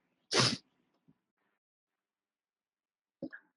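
A woman sneezes once, sharply and fairly close, in a quiet classroom, followed by a faint cough and a short throat-clearing sound near the end, with silence in between.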